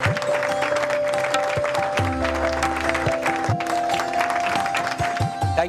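Shareholders applaud at the Reliance Industries annual general meeting, a dense, continuous patter of clapping from a large hall, mixed with steady background music.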